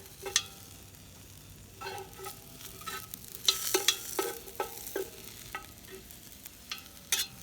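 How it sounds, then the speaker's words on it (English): Squash stirred in hot oil in a camp pan, a light sizzle under repeated clattering scrapes and taps of the utensil, clustered in bursts at close range. "stir that around a bit, make sure it's all coated"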